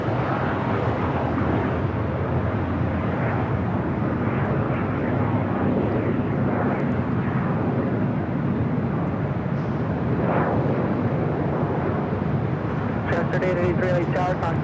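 An Airbus A380 jet at LAX produces a broad, steady roar of engine noise throughout, with a voice talking over it.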